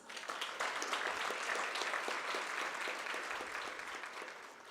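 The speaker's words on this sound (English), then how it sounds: "May I request you all to welcome him with warm applause." An audience at a young leaders' business summit applauds a minister's arrival with steady, even clapping that holds at a moderate level throughout and then eases slightly near the end.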